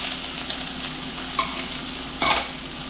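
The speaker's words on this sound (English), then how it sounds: "We're going to throw in our green beans, going to throw in our sausage." Onions, green beans and sausage fry in a hot pan, giving a steady loud sizzle with occasional stirring scrapes and a couple of sharper pops or clatters, close up and with no talking.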